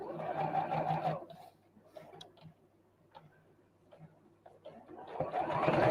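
A sewing machine stitches fabric in two quick runs of rapid mechanical whirring, one at the start and one at the end, with quiet handling clicks and taps in between.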